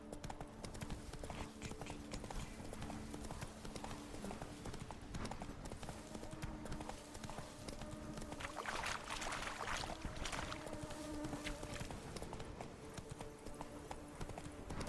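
Geralt's horse Roach galloping in The Witcher 3, a fast, steady run of hoofbeat clip-clops lasting throughout, with game ambience and faint background sounds underneath and no clear talk.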